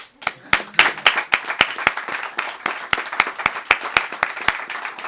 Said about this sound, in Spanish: vou pedir un aplauso para vos porque sodes increíbles